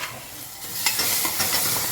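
Spice tempering (phodni) for amti frying in a pan and starting to burn: a steady, close crackling sizzle with scattered stirring clicks and no voices.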